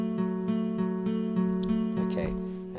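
A Stylophone Gen X-1 style O-Generator pad sequence steps through the chords of a song, a bright electronic tone pulsing in an even rhythm of repeated notes, close and steady with no talking.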